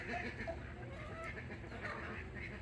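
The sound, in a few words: chickens clucking on a farm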